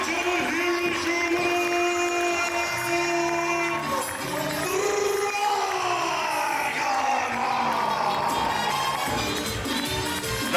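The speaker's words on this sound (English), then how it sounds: "Hear the crowd reaction. They love them some Dragonheart." A pro wrestling crowd yells and cheers loudly and continuously, with many overlapping shouting voices and rising, wavering calls filling the arena without a break.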